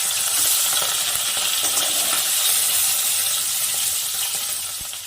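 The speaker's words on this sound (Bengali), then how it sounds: "এবার মাছগুলোকে ভেজে নিব।" Bata fish frying in hot mustard oil in a kadai, a loud, steady, dense sizzle and crackle that holds evenly and eases slightly toward the end, with no voices.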